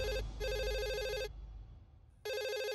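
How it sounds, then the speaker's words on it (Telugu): A telephone bell rings in a tense indoor movie scene, with two loud, steady trilling bursts separated by a short pause and then a third ring starting after a quieter gap. "ఏయ్, ఫోన్ రింగ్ అవుతుందిగా"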